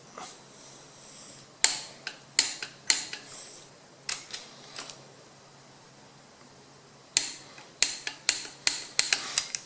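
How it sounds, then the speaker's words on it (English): Torque wrench tightening connecting rod bolts on a Dodge Viper V10 engine build, a series of crisp metallic clicks in two clusters separated by a quiet pause, close and fairly faint against a low steady hum. "So that's how you properly torque your connecting rod bolts"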